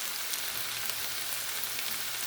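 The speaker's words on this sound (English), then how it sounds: "Y'all see the hot dogs boiling back there." Hot dogs boiling in a pot on a stove, giving a steady, even bubbling and sizzling hiss that runs unbroken throughout with no talking.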